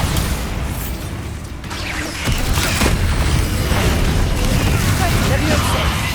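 Bombarda spell blasts in a Hogwarts Legacy catacomb dungeon: loud rumbling bursts and crashing debris in a continuous stretch of noise, building louder after the first couple of seconds.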